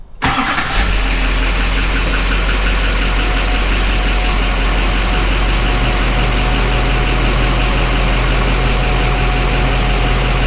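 An excavator's diesel engine cranks and catches, then settles into a steady, loud idle with a low rumbling drone and faint rattling throughout.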